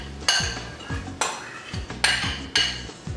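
Cucumber being mixed into raw vegan ceviche in a bowl, with four sharp clinks and scrapes of a utensil against the bowl, close and fairly loud, no talking.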